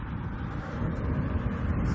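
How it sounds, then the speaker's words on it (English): Steady wind rumbles and buffets the microphone at the Las Vegas Raiders headquarters construction site, a low continuous roar with no voices. "It's starting to get pretty windy."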